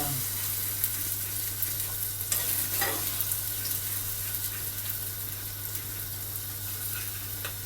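An egg fries in a hot pan for truck-cab cooking, giving a steady, close sizzle with a constant low hum underneath and no talking.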